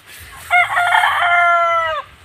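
A farm rooster crows loudly once in a long, drawn-out call lasting about a second and a half, close by and clear over quiet surroundings.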